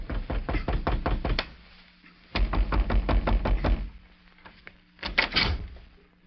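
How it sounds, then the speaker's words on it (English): Knuckles rap on the front door of a home in three loud, close bursts of quick knocks, separated by short pauses, with no voices. "a young girl in Bedford, Texas, answered a knock at the front door of her home."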